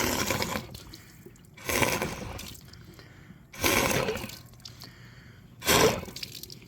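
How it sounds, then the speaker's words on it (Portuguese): Water is blown out through the coolant hoses of a Suzuki SRAD 750 motorcycle radiator during a fluid change, four separate sputtering, splashing gushes spaced a couple of seconds apart, with quiet dripping between them. "Vou até dar mais uma soprada."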